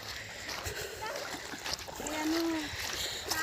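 Water splashes and swirls around legs as people wade across a river, irregular sloshing that swells louder toward the end.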